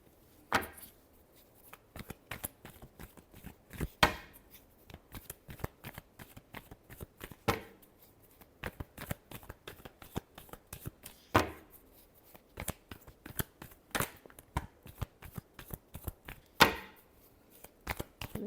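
Tarot cards are shuffled by hand close up, with a steady run of quiet, sharp riffling snaps and taps in irregular bursts and no voice.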